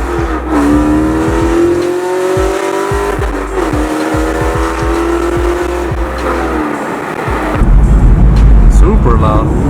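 A loud 2017 Camaro SS 1LE V8 with Kooks headers revs hard and pulls through first gear, its roar climbing in pitch before a raspy surge at the end.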